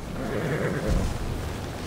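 Horse neighing in the video game Immortals Fenyx Rising, a short whinny over a steady game soundscape with a low thump near the middle.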